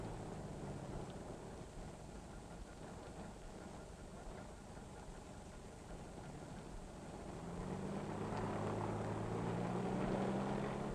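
Transfield Airtruck agricultural aircraft engine humming as a steady, fairly faint drone with wind rumble, swelling louder and rising in tone over the last few seconds.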